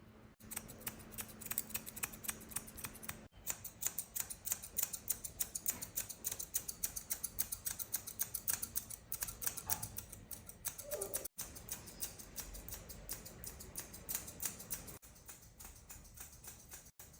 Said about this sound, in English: The last step is tidying up his eyebrows and trimming his beard.